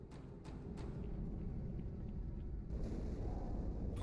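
A Halo 2 cutscene explosion as a deep, sustained low rumble with a few faint sharp pops at the start, settling into a steady distant roar.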